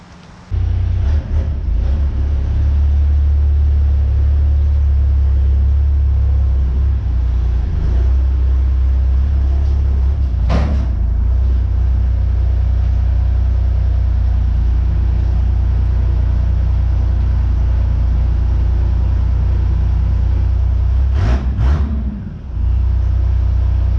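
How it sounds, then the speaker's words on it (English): A truck engine on a dyno runs loud and steady, a heavy low rumble that holds for a long stretch. It surges briefly near the middle and again near the end, then cuts off abruptly. "I put it on the dyno and stayed there quite late, made like 25 runs on it, trying to get some more out of it"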